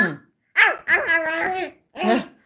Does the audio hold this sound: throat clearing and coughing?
no